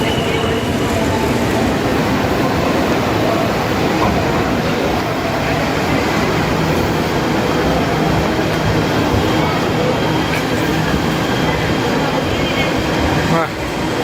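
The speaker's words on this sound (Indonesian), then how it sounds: "Wah, kereta udah datang." A Jakarta MRT train pulls into Bundaran HI station with a steady loud rumble and rushing noise that fills the platform, while people talk indistinctly in the background.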